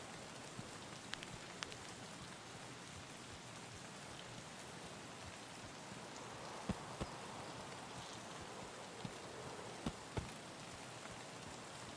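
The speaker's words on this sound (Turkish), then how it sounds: "Yağmur var ya" Steady rain pours across the map in Escape from Tarkov, a dense, even hiss of falling water with scattered louder drop impacts, held at a constant level for the whole stretch with no voices.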